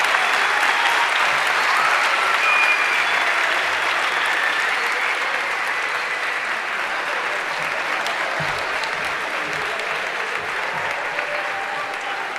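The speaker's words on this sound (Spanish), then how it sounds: "El aplauso fuerte para todos ellos." Sustained loud applause from a gala audience for handball players called onto the stage, a dense steady roar of clapping that holds for the whole stretch with no voices over it.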